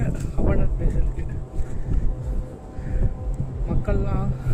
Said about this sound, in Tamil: ப்ளேஸ் கொஞ்சம் காற்று அடிக்குது, அட்ஜஸ்ட் பண்ணிக்கோங்க